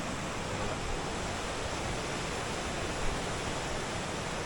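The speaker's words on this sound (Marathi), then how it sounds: "आणि नदीला पाणी बघा किती वाहते, जबरदस्त." A river in flood in a Konkan village, swollen with heavy rain, rushing past as a steady, dense roar of water that fills the whole stretch with no pauses and no voices.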